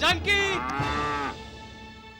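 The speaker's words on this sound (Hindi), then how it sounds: "ये तो पौना गाय की आवाज है।" A cow lets out a long, loud moo that rises and then fades, with a man briefly calling out over its start.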